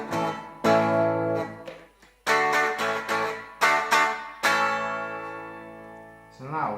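Soviet Ural 650 electric guitar on its bridge pickup, played in several ringing strummed chords and notes with brief gaps between them, bright and fairly loud, with a short lower note sliding in at the end.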